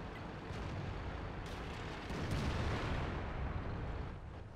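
Tank cannon fire in the World of Tanks video game, with a steady low rumbling roar and a heavier boom swelling near the middle, no voices over it.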